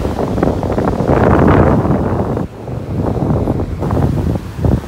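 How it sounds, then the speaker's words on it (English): Gusty wind buffeting the microphone on a North Naples, Florida beach on a morning walk, a loud continuous roar that dips briefly midway before surging again, with surf blended underneath. "There comes that wind again."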